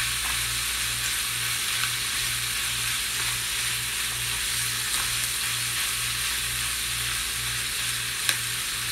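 Ham soup ingredients seasoned with adobo sizzle steadily in a hot pot, a dense continuous frying hiss with a faint rhythmic bubbling pulse and the occasional scrape of stirring, close and fairly loud with no talking.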